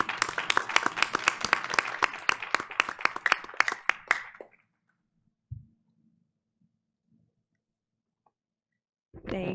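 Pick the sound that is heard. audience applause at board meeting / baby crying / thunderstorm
audience applause at board meeting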